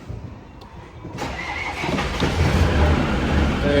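Land Rover Defender 90 diesel engine starting after its glow plugs are warmed, cranking briefly, then catching into a low rumbling idle close by.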